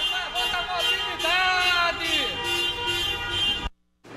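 Car horns honk repeatedly during an Uber drivers' protest in the street, long and short blasts overlapping amid crowd noise and voices, loud and close before cutting off abruptly.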